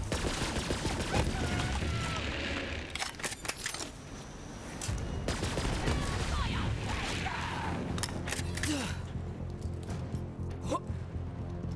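Rapid gunfire from the Flipper gun in Borderlands 3, dense bursts of shots running almost continuously under a busy game mix, with a brief dip in the middle before the shooting resumes.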